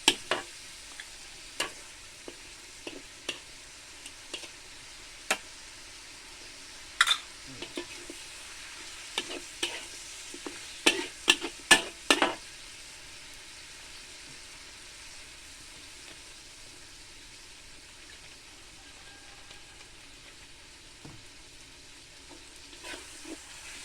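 Chili paste with spices and kaffir lime leaves stir-fried for a Thai spicy chicken and winged bean dish, soft steady sizzling under intermittent clacks of a spatula against the pan, busier early then quieter, no talking.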